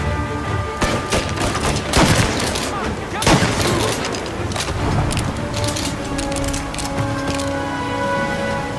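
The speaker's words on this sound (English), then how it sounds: "to create the sense that these are life-and-death gunfights and that every bullet counts" Gunfight from the Mafia: Definitive Edition video game, with repeated loud shots and sharp bursts of gunfire throughout, set under someone talking steadily.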